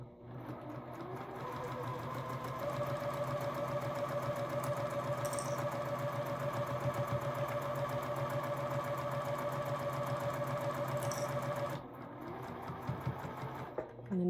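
A sewing machine stitches quilt patches together for a nine-patch throw, running in a steady, close, continuous hum from about 2.5 to 12 seconds, then stopping, with faint handling noise before and after.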